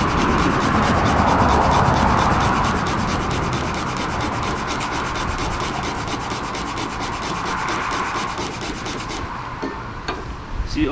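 Wood rubbed hard against wood to make fire in the traditional Samoan survival method, a loud, steady rasping scrape that continues without a break for about nine seconds, then eases off into a few lighter strokes.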